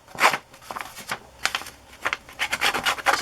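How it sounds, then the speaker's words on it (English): A distressing tool rubs along the edge of a sheet of paper in short rasping strokes, a series of dry scratchy swipes close by with brief pauses between them. "So I'm just rubbing that along the edge of this paper"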